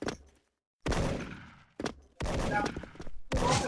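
Gunfire from the online shooter game Special Force comes in several loud, dense bursts separated by brief silent gaps.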